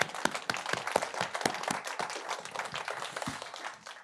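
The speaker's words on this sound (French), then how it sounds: "On vous applaudit évidemment." Applause from a studio audience at the close of a television show, many hands clapping steadily and fairly distant, slowly thinning out toward the end.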